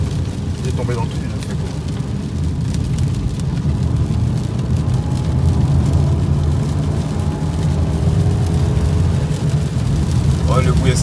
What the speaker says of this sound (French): On va essayer encore une petite accélération.